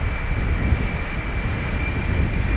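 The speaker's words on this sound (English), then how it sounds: "No sooner has the previous plane left the ground or the next one is already spinning up, it seems." An airliner's jet engines spin up for takeoff at Amsterdam Schiphol, runway 36L, a steady, loud broadband roar with a thin whine on top, constant throughout.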